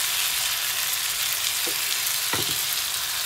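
Chicken curry frying in a pan gives a continuous close sizzle, with a few spoon-stirring knocks and scrapes near the end and no talking.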